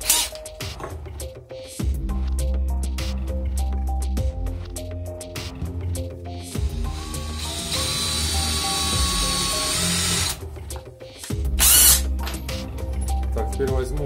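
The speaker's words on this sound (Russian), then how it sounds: "Маленьким сверлом чуть расширю" A small drill bit whines steadily at close range, widening a hole, its pitch shifting as it bites, with a brief high squeal near the end.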